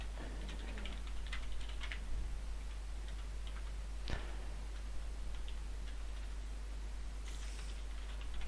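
Typing on a computer keyboard while editing text in Minecraft, heard as irregular bursts of quiet clicking keystrokes with pauses between them, fairly close and without speech, over a steady low hum.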